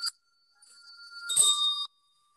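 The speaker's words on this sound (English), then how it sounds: "Ring the bell." A bell rings during a music session, giving a short clear tone followed by a brighter, longer ring that sustains briefly before stopping, close and fairly quiet with no talking.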